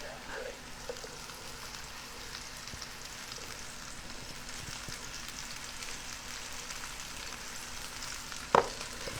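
Shiitake mushrooms frying in oil as they are stirred in a pan, a steady, even sizzle running throughout, with one brief sharp clink of utensil on pan near the end.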